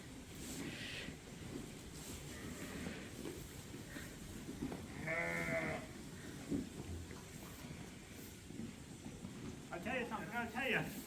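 Sheep bleat a couple of times at a fall lambing on a farm. The calls are moderately distant and come under people talking and a steady rustling outdoor background.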